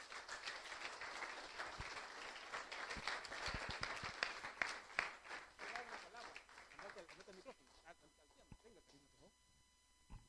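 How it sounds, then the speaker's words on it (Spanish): Church congregation applause at a Spanish-language worship service, a long dense burst of clapping that fades into scattered claps as a voice speaks over it. "Démosle un fuerte aplauso al Señor"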